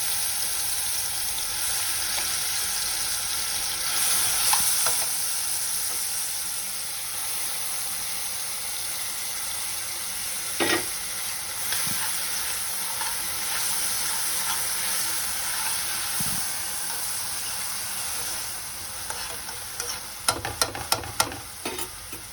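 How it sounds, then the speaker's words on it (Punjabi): Chutney tempering in hot oil on a stove, a steady broadband sizzle running throughout with occasional scrapes and clinks of stirring, a cluster of sharper utensil knocks near the end. "ਤੇਲ ਹੋ ਚੁੱਕਿਆ ਗਰਮ ਤੇ ਆਪਾਂ ਇਹਦੇ ਵਿੱਚ ਹੁਣ ਚਟਣੀ ਕਰਨੀ ਐਡ"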